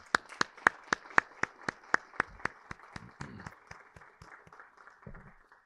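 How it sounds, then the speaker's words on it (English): Sharp, evenly spaced claps from an audience at a college recognition breakfast ring out one after another, slowing and softening toward the end, with a brief murmur underneath. "Let's give them a round of applause."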